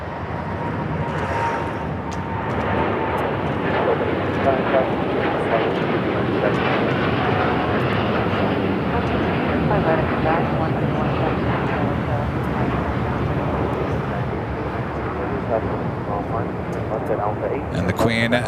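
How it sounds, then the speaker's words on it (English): A United Boeing Dreamliner jet rolls down the runway, its engines a loud, sustained roar that swells and holds, while a person talks over the noise. "got that United Dreamliner rolling down to 5 right"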